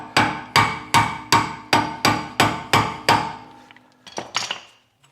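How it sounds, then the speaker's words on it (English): Hammer on chisel knocking off a VW Golf mk4 rear hub cover: eight sharp, evenly spaced metallic strikes close up, then a couple of softer clinks. "So you obviously need to remove this with a chisel and that hammer."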